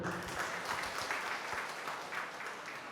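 Steady applause from a large crowd fills the air at a graduation ceremony for 500 Islamic boarding school students and a mosque inauguration in Kendari, a dense, even wash of clapping heard at moderate distance.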